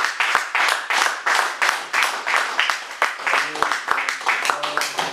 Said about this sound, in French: Vous pouvez applaudir pour le pasteur.